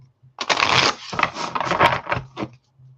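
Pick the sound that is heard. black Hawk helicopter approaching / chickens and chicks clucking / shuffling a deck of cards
shuffling a deck of cards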